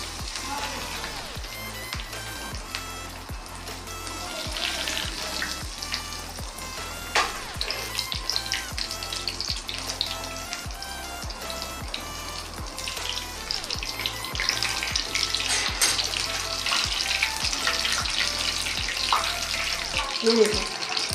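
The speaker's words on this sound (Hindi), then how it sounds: "ये खुद ही फ्राई होके ऊपर हो जाएगी" Chicken chili cheese bites fry in hot oil, giving a dense continuous bubbling sizzle that stays steady and close throughout, with a faint background hum.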